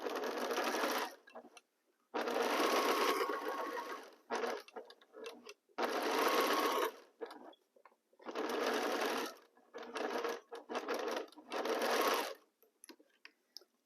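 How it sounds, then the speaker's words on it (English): A sewing machine stitches a quarter-inch seam through aligned fabric pieces for a saw-toothed quilt square. It runs in about six quick close bursts separated by short silent pauses. "first we align our fabrics and then we sew 1/4 inch"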